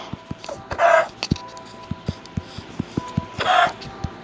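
A chicken in Minecraft gives two short clucking calls, heard amid a steady series of soft thumping footsteps or clicks.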